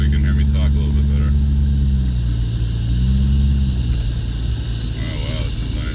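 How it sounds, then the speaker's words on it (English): Car engine drones steadily while driving along Wiseman's Ferry Road beside a river north of Sydney, a close low hum with slight pitch swells as the speed changes, under light cabin noise. "as always, we like a little engine noise"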